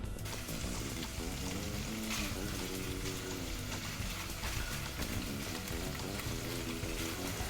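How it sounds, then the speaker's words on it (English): Sausages sizzle steadily in their own released fat in a hot pan on a stove, a dense, continuous crackling fry close by with no talking. "the sausages started to release the fat and started frying"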